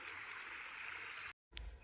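Water from a motor pump flows into a field planted with onions, a steady rushing gush heard close by. It cuts off briefly, then returns with a low thump.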